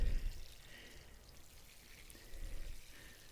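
Water is poured onto transplanted bok choi seedlings in pots inside a greenhouse, a soft continuous splashing stream that is faint and close, swelling slightly near the end, with no talking.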